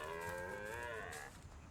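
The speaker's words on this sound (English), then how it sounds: "I thought that deer literally just mooed at me" A deer in the medieval survival game Pax Dei lets out a long, cow-like moo, a single sustained low-pitched call lasting over a second, loud and close with no talking over it.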